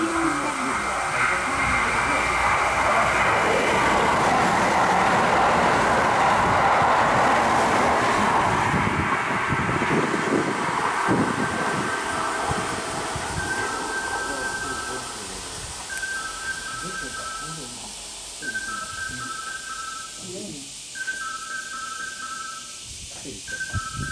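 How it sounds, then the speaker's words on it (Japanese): A Kintetsu 22000 and 30000 series limited express roars through a station loudly, broad rumbling noise that slowly fades, followed by repeated high electronic chime tones in short bursts. "まもなく2番線の電車が通過いたします。"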